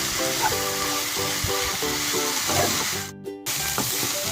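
Grated ash gourd frying in a pan for halwa, a steady broadband sizzle running throughout with a few clinks and stirring sounds mixed in, and a brief silent break near the end.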